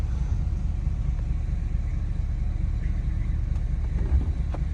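A van drives along Broadway from Merrillville to Gary, Indiana, in fall, its engine and road noise forming a steady, loud low rumble inside the cabin throughout.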